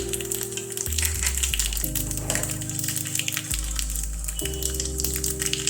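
Asafoetida, mustard seeds and nigella seeds crackle and sizzle steadily in hot oil at close range, a dense continuous frying hiss with a steady underlying tone.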